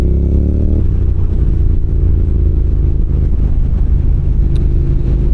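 A Honda NC750X motorcycle engine droning steadily while riding, with a low, constant rumble and wind noise close to the microphone. A brief higher engine note at the start settles into an even cruising hum.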